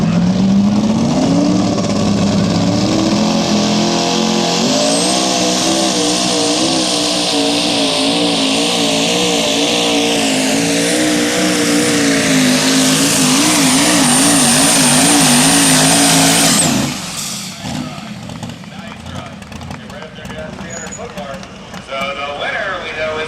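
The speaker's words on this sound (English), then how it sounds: "Twin turbocharged Chevrolet." A twin-turbocharged Chevrolet pulling truck roars loudly at a truck and tractor pull, its engine pitch climbing and holding with a high turbo whine for about sixteen seconds before cutting off sharply, and crowd noise and an announcer's voice follow.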